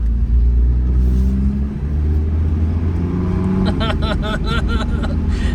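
An abandoned blue Volvo 242 on the road, its engine rumbling loud and steady up close, with a rising buzzy rattle joining in near the end.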